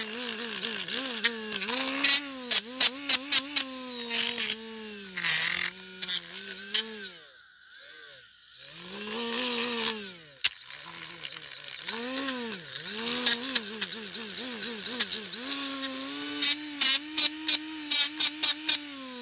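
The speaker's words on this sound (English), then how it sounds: "So after done using the sanding disc" A power tool with a sanding disc grinds rust off the rear brake caliper bracket of a 2021 Toyota RAV4 AWD 2.5, whining in repeated bursts with rattling contact, a brief pause mid-way, loud and close.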